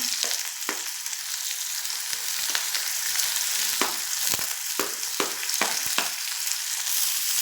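Garlic, ginger and onion sizzle steadily in a hot pan for a pea curry, with a constant bright hiss broken by repeated scraping stirs of a utensil, close up and without talk.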